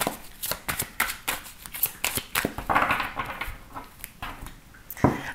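Tarot cards being shuffled by hand, a rapid series of crisp riffling slaps and flicks in an irregular rhythm, close and fairly quiet, with no talking.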